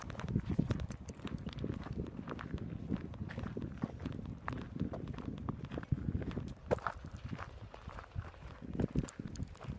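Horse hooves clip-clop along the Camino de Santiago trail between Burgos and Hermanillos, a steady uneven patter of steps at moderate distance over outdoor wind and ambient noise.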